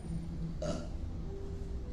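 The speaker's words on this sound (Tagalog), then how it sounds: "Grabe yung dighay niya, oh." A man lets out a single loud burp, a short burst in the middle of steady background noise, with nothing else happening around it.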